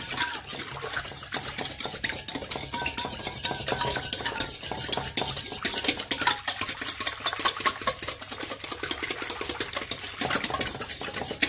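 A spoon stirs a sugar and yeast mixture in a bowl, giving a steady, continuous scraping and clinking that runs throughout at close range, with no talking.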